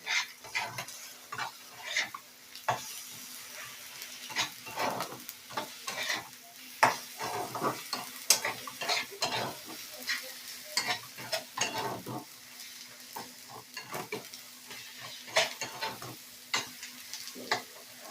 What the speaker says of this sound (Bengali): আবারও সব মশলাগুলোকে ভালো করে কষিয়ে নেব।